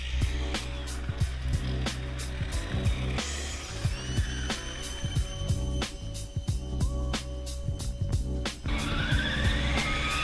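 A Redcat Racing Piranha XTR-10 RC car drives fast in a backyard, its electric motor whining and tires clattering with rapid repeated bumps, pitch rising and falling as it speeds past.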